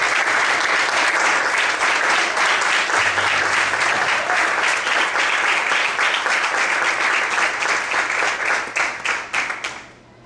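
A church congregation claps hard and continuously for praise, a thick, even roar of hands that holds for around nine seconds, then tapers off quickly into quiet.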